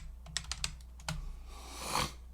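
Quick bursts of keystrokes on a computer keyboard typing a search, a cluster of clicks followed by a pause and a final flurry of keys, close and clear with no talking.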